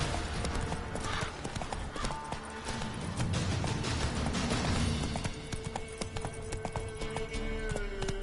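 Hooves of Roach, a horse in The Witcher 3 video game, clip-clop at a steady galloping rhythm, close and continuous, with a brief whinny and light game ambience around them.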